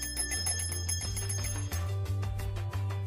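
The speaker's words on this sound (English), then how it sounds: "You could add a motor shield and ring a real bell." A real bell driven by a motor shield on a capacitive touch board rings in a fast, steady series of bright metallic strikes, close and clear with no voices.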